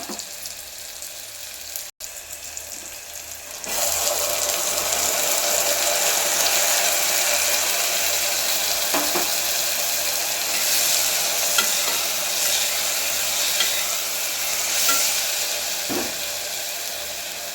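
Field beans sizzle with tomato and onion in a hot spiced tempering for avarekalu sambar, a quiet start giving way to a loud, steady frying crackle with occasional stirring scrapes and no talking.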